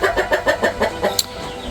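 A hen clucks in a steady rhythm of about six short, close calls before laying eggs, followed by a brief sharper note and then quieter background.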